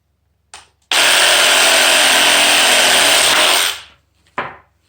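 An electric saw cuts deer leg bones in half, a loud, sustained whine for about three seconds that winds down, framed by brief bursts of the motor starting and stopping.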